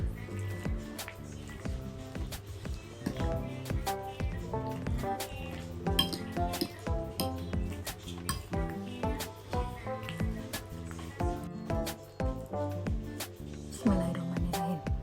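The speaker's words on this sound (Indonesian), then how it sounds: "Kita aduk ya." A spoon stirs and scrapes somay in a bowl, with repeated close clinks and soft wet squishes in an irregular rhythm, clear and fairly quiet with no talk.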